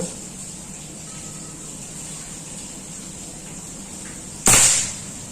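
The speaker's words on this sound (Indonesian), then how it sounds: "Tembakan kedua." One sharp, loud crack from a 40 cm Predator Mini Bullpup PCP air rifle running 2700 psi, heard late and alone over a constant low background hum.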